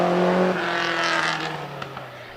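Vintage racing car engine at a hill climb, loud and close at first, then holding a steady drone that fades slightly as the car moves off.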